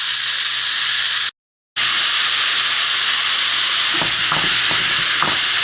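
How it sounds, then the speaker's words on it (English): Ground hamburger and pork brown in vegetable oil with a loud, close, constant sizzling hiss, broken by a short silent gap, then a few scraping taps as the meat is broken apart. "And to the vegetable oil, we are going to add in our hamburger and our pork. Okay? And we're just going to brown that up"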